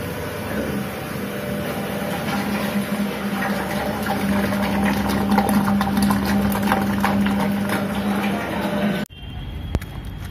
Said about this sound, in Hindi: पाइप स्टॉक हो रहा हो तो मोटर से ऐसे पाइप लगा के साफ कर ले ताकि पाइप अच्छी तरह साफ हो जाए